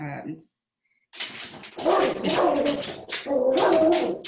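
A dog barks and yips at a bird, several short sharp outbursts that are fairly loud and close, with a brief whimper in between.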